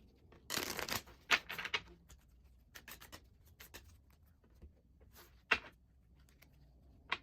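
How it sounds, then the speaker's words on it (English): Tarot cards are shuffled by hand in quiet, uneven bursts of riffling and slapping, with several sharp flicks separated by soft rubbing pauses and no talking. "let's get these cards shuffled up to see what our collective guidance is all about"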